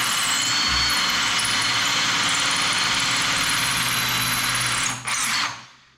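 A heavy SDS drill roars continuously up close, drilling into a wall, briefly dropping out and restarting before spinning down to silence.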